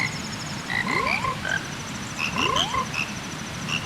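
Two frog croaks from The Legend of Zelda: Majora's Mask, each a rising chirp with bright harmonic tones, spaced about a second and a half apart over steady game ambience.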